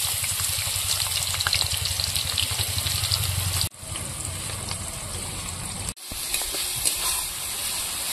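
Onions sizzling and frying in hot oil with a little sugar, cooked slowly for chicken biryani birista; a steady close crackle with stirring, briefly interrupted twice.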